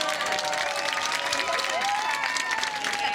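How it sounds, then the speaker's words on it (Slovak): A crowd at an outdoor live music festival applauds in a dense, continuous wash of clapping with some cheering mixed in, steady and loud throughout. "Tak to si naozaj zaslúži potlesk."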